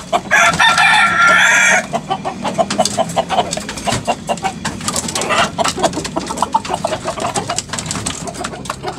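Chickens cluck and squawk up close while being fed, with a rooster's crow near the start, followed by busy pecking and scattered clucks.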